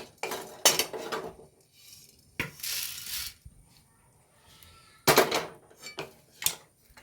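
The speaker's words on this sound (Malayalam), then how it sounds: "കടലപ്പരിപ്പ് വറന്നിക്കുന്നു അത് എടുക്കുന്നുണ്ടേ" A spoon scrapes and clatters against a metal pan while chana dal is dry-roasted, giving sharp intermittent metallic knocks separated by quieter rustling stirs, close up with no talking.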